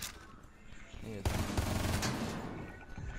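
Sharp burst of gunfire in the tactical shooter Rainbow Six Siege: a quiet lead-in, then a loud crack of shots and rattling impacts that rings out and fades over a second or two.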